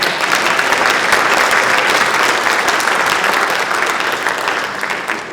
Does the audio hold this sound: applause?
yes